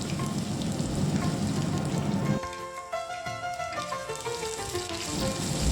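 Crushed ginger and garlic hit hot coconut oil with popped mustard seeds and sizzle loudly and steadily up close, with a dense crackling hiss that shifts midway into a lighter spatter alongside faint ringing clinks.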